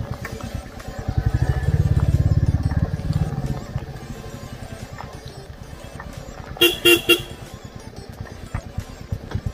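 A motorbike or car on a road ride from Siliguri to Shivkhola hums along with a steady engine drone, a louder engine swell early, then a short double horn toot near the end, close and clear.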